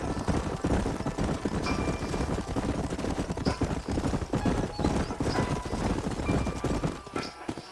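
Horse hooves clip-clop in a steady galloping rhythm across a Red Dead Redemption canyon ride in the New Austin frontier, loud and continuous with scattered game effects.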